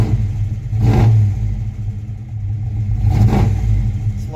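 A Buick Skylark engine idling close by, with a steady low rumble and two brief surges as it is revved around the first and third seconds.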